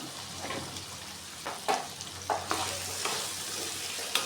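Potatoes with turmeric and salt frying in a pan for vegetarian aloo posto, giving a soft steady sizzle with a few spoon-stirring scrapes, close and fairly quiet.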